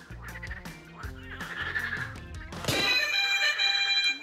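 A recorded goose honk is played as a sound-guessing game on a French TV show, short nasal honks repeating over a noisy, music-like background and ending in a brighter burst of sound, with no voices.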